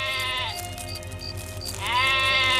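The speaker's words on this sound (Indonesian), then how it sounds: "Kok malam-malam begini ada kambing mengembek?" A goat bleats at night in a radio drama scene, two long wavering cries, one at the start and another near the end, close and loud over a soft rhythmic background pulse, with no talk.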